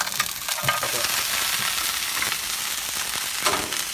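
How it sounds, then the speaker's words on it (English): Chopped garlic fries in olive oil in a pan aboard a sailboat, a loud, dense sizzle with scraping stirs and crackles running continuously. "I'm going to fry off this garlic and then take the clams."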